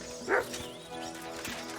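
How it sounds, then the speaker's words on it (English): A dog barks in the medieval open-world game Kingdom Come: Deliverance II, giving one short, loud bark near the start over a steady ambient game backdrop, with a fainter yip later. "Good doggy."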